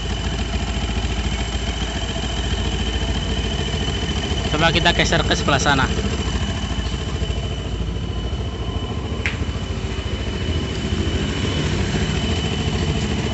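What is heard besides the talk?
Yamaha Jupiter MX motorcycle engine idling with strange noise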